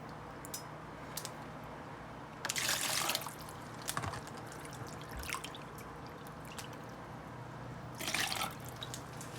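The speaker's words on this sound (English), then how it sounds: "I'm going to start out with 2 cups of water." Two cups of water being poured and dripping into a pot for boxed macaroni and cheese in a home kitchen, a faint steady trickle with a few brief louder splashes over a low background hum.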